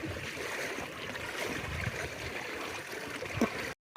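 Floodwater pours across a flooded road in a steady, broad rush and gurgle, loud and close, then cuts off abruptly at the end.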